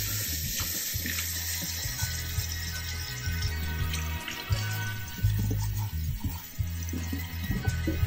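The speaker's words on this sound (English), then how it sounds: "I'm just gonna take some water and rinse it off" Water runs and splashes steadily as an object is rinsed off by hand, a close, continuous pour with irregular splatters and small surges, no talking.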